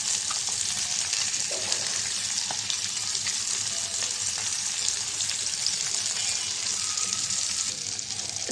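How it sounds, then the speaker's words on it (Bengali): Fish and fish roe fry in a hot pan, giving a steady, loud oil sizzle with occasional crackles and spatters throughout, close up with no talking. "হয়ে গেছে মাছ আর ডিম ভাজা।"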